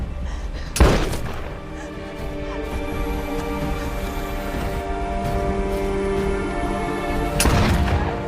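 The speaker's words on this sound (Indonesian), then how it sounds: "akhirnya Ryan berhasil terbunuh dengan tembakan pistol tersebut" A loud pistol gunshot sounds in a film thriller scene. A sharp crack is followed by a sustained droning score, and a second booming hit lands near the end.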